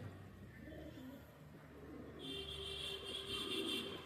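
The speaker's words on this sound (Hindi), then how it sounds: "ये है वो कबूतर जो आया है अपना," A young pigeon coos softly and repeatedly nearby, over a steady low background rumble.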